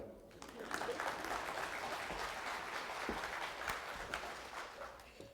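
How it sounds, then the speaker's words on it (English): Applause breaks out from an audience at a company meeting, a steady patter of many hands clapping at moderate volume, with a few sharper claps popping out and faint crowd murmur underneath. "You can clap if you like."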